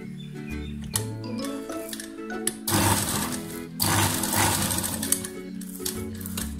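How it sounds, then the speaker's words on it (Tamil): Sewing machine stitching elastic onto folded cloth, rapid mechanical clatter in bursts that start and stop, with a steady hum between runs, close and clear. "ஃபோல்ட் பண்ணி இந்த எண்டு கிட்ட மட்டும் எலாஸ்டிக் சேர்த்து ஸ்டிச் பண்ணுங்க."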